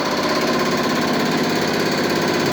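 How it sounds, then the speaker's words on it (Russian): A hydraulic pump from a New Holland combine harvester runs on a test stand after repair, giving a loud, steady mechanical drone with a dense, even whine and rumble throughout. "гидронасос работает"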